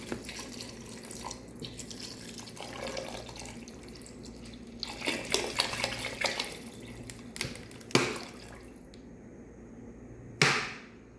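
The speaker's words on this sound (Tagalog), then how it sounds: "So lalagyan na natin siya ng tubig." Water runs from a tap into a cooking pot while lomi is being made, a steady close-up flow with clinks of metal, then a brief loud splash near the end.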